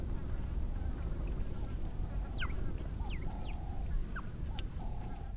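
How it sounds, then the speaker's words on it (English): Birds calling at a waterhole in the Kalahari, several short chirps and whistled notes scattered over a steady rushing background, moderately distant. "a steady stream of birds arrived at the waterhole"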